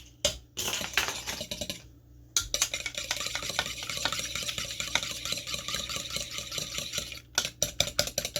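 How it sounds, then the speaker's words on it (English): An egg beaten in a bowl for naan dough, with rapid clinking whisk strokes against the bowl in a close, busy rhythm after a brief pause, and no voices. "Okay, we're just going to whisk that together."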